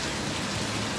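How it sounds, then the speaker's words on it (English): Rain falls in Cancun as a dense, even hiss that fills a brief moment with no pauses or voices. "It's raining,"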